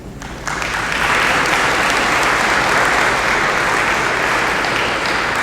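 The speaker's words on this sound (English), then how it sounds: "give a round of applause to Second Baptist Church for allowing us to be here today" Audience members at a public library meeting held in Second Baptist Church break into steady applause, a close, dense clapping that swells within the first second and holds evenly to the end, with no voices over it.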